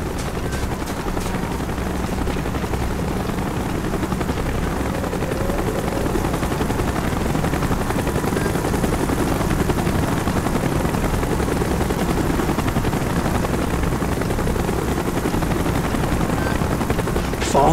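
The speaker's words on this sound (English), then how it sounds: "Chopper's inbound." Military helicopter from Call of Duty: Black Ops droning steadily throughout amid game combat noise, with faint gunfire and voices mixed in.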